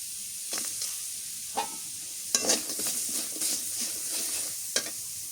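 Chopped onions and green chilies frying in hot mustard oil in a village kitchen: a steady, close sizzle with intermittent scraping stirs of a spatula in the pan, no talking.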